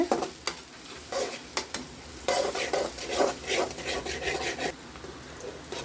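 Onions sautéed in a pan are stirred with a utensil, giving a soft sizzle under repeated scraping and rubbing strokes in an irregular rhythm, close and moderately loud with no talking.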